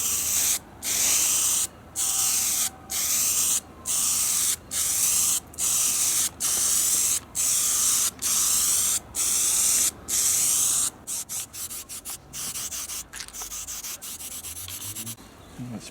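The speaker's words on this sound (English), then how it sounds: "do a close-up while I'm spraying this stuff on" A spray paint can sprays in a series of short hissing bursts, about a dozen evenly spaced, then quicker, choppier spurts near the end.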